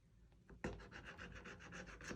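A scratch-off lottery card being scratched with repeated quick rasping strokes, close and fairly quiet, starting after a brief pause and continuing steadily.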